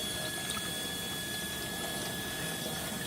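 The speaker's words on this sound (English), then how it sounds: "Just simply rinsing that crud off." Running water rinses baked-on crud off a cast iron pan during a restoration, a steady close splashing rush with a faint pump-like hum and no talking.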